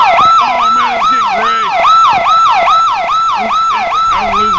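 An ambulance siren in a GTA roleplay game wails loudly and steadily with a rapid repeating rise-and-fall yelp, close and continuous throughout.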